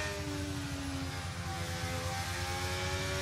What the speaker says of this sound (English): You can really hear that helicopter.